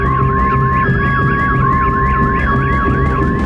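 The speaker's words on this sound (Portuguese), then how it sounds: "Os sons ouvidos por aqui são apenas de sirenes e disparos." Wailing siren in Kyiv during the Russian invasion, a steady rising-and-falling electronic tone repeating every half second or so, loud and continuous over a low background hum, with no talk.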